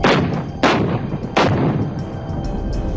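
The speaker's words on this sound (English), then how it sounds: "the remaining units of the Northern Light Infantry began pulling back across the LOC as Indian bombardment continued" Indian artillery bombardment in the 1999 Kargil War, three heavy booming blasts about every three-quarters of a second, each trailing into a rolling rumble with continuous distant thunder beneath.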